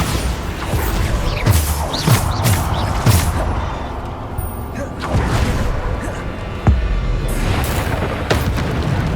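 Bombarda explosion spells in Hogwarts Legacy combat: a series of loud booming blasts and thuds, several bursts spaced a second or two apart, with a voice calling out spell names between them.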